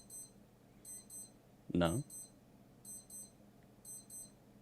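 Wristwatch alarm going off in a quiet room, a faint repeating pattern of high beeps in regular bursts while a person briefly speaks.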